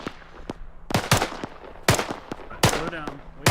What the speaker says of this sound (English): Go in, crouch, fire 5 rounds.